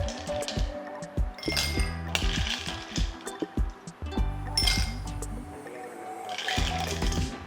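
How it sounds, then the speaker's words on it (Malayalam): Ice cubes clink and rattle as they are dropped into a glass while preparing a green apple mojito, with several bright, closely spaced bursts of knocking and chinking spread across the moment. "അപ്പോൾ നമ്മൾ ഒരു ഗ്ലാസ്സിൽ ഐസ് ക്യൂബ് ഇടണം."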